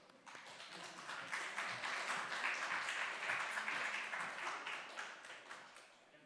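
A church congregation applauds with a swell of many hands clapping that builds, holds steady and then tapers off near the end, moderately distant in a roomy space.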